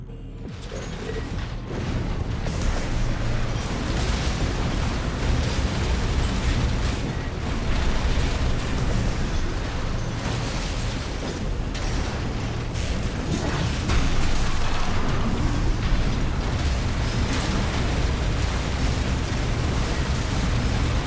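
Napalm fire and explosions in Armored Core 6 rage as a continuous, loud, dense roar with crackling bursts and mechanical clanks, holding steady throughout with no voices.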